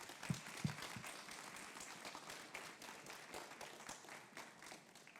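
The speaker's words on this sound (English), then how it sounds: "let's give the teams and also judges a big round of applause" Applause in an auditorium for the teams and judges at the final round of a university international case competition, a quiet, fairly distant wash of many hands clapping that gradually thins out.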